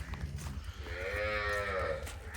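A medium-sized Cholistani cow moos once in a long, drawn-out tonal call over a steady low rumble of background noise.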